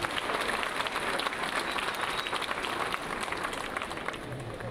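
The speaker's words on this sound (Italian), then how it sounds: "Un bel applauso forte a questi grandi musicisti." An audience applauds musicians of an alpine military brass band, with a steady, fairly faint wash of clapping throughout, crowd noise mixed in.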